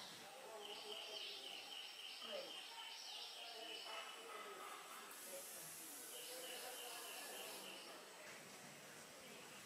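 Jungle babblers chirp and chatter in a forest in New Forest, Dehradun, a faint, distant series of high, scratchy calls over a soft hissing background, with talking partly over them.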